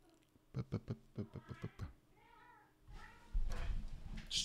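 A domestic cat meows several times in short, closely spaced calls, followed by a louder rustling burst and a brief sharp cry near the end, with no talking over it.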